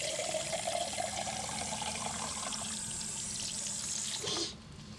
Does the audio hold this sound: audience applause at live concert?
no